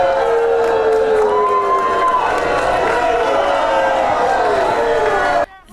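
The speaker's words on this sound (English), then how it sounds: "protesters made up more than half of the crowd today, many of them holding signs and even booing" A large crowd of protesters outside the Government Center building in Plattsburgh roars, jeers and boos in a sustained, loud wall of voices, with sharp shouts rising above the din until it cuts off abruptly.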